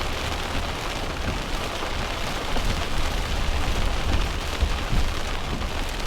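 Steady rain falls on a red clay road around a parked van, a dense, even hiss with soft low rumbling underneath.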